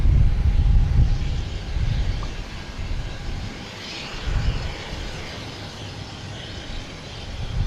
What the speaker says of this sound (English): Now we get Lufthansa, get the gear down